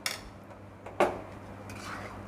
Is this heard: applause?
no